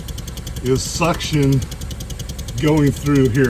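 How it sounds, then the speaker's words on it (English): A running 2016 Kia Soul with suction puffing through an evap hose, a fast regular pulsing close to the hose, partly under someone speaking. "So that sound you hear, that puffing sound, is suction"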